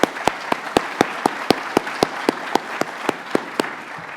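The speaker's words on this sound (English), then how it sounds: "What do you say we give them a round of applause?" Audience applause at an MIT alumni leadership conference, with distinct loud claps in a steady rhythm standing out over a softer bed of crowd clapping, close and without speech.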